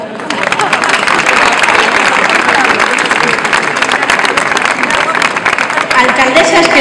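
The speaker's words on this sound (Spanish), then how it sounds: "Aplauso." Sustained, loud applause from a seated crowd at the Santa Águeda festival awards ceremony in Zamarramala, Segovia, a dense, even clapping that holds steady throughout.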